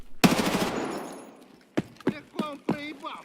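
Escape From Tarkov gunfire opens with a sharp burst that rings out and decays, followed by several short, spaced shots, with a voice speaking between them.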